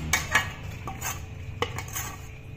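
Warm maize dough is scraped out of a pan into a large metal vessel, with several sharp metallic clinks and scrapes of a utensil against metal, spaced irregularly over a quiet background.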